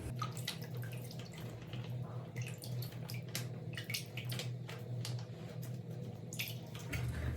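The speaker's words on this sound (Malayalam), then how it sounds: "ഈ സൊല്യൂഷൻ നമുക്ക് ഒഴിച്ചു കൊടുക്കാം." Fabric dye solution poured into a container of plain water, a steady trickling and splashing pour with scattered drips throughout, close by and continuous with no talking.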